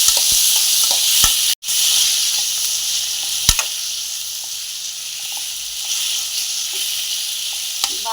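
Tomatoes and tamarind cooking down in a pan, a steady bright sizzle and hiss with a few sharp clicks of utensils against the pan, close and continuous throughout.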